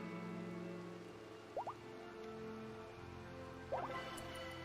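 Steady rainfall in Rimworld, a soft, even patter with scattered drips, heard faint and continuous under a low background tone, with two brief squeaky chirps cutting through.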